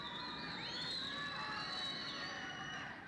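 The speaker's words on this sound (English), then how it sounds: "Lovelock crowd loves that play" A crowd at a high school basketball game between West Wendover and Lovelock cheers a made shot in a gym, a steady wash of shouts and voices, fairly distant and even throughout.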